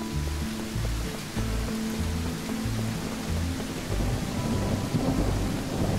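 Steady rain pours over deep rolling thunder in a survival video game, rumbling on and off throughout, with no voices present.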